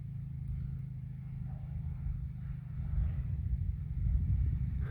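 Four-wheeler ATV engine labouring up a steep hill while pulling a mineral feeder on a farm pasture, a low, steady droning hum that grows slightly louder toward the end.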